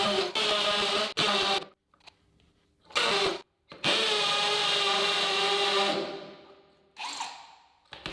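A Parkside PSBSAP 20-Li A1 cordless impact driver bores into wood in loud, sustained bursts separated by short pauses and near-silent gaps, with one run fading out as the nearly flat battery gives up.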